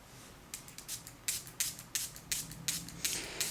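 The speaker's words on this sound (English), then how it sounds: "want to spray the entire sticky side of the plastic." Short spray bursts of liquid misted onto the sticky side of a plastic iPhone 3G protective film, about ten quick hissing puffs in an irregular rhythm, close and fairly soft, no talking.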